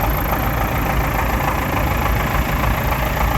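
A classic David Brown Cropmaster tractor idles at an outdoor show, its engine a loud, steady, even chug that carries without pause throughout.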